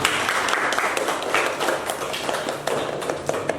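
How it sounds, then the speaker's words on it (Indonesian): A classroom of students claps steadily for a few seconds, a dense, even patter of many hands without pause or voices on top. "Tepuk tangan."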